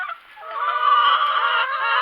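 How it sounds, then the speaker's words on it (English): A flock of nine-week-old Cornish Cross meat chickens calls together in a steady, dense chorus of overlapping clucks and squawks, fairly loud and continuous. "These are the Cornish Cross Chickens that we will be harvesting today."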